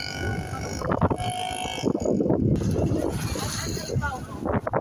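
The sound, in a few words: strong wind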